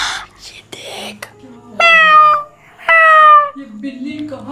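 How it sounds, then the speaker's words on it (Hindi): A cat in the Granny horror video game gives two drawn-out, tonal meows in quick succession, loud and close, between short bursts of voice and game noise. "ये बिल्ली कहाँ घुस गई यहाँ?"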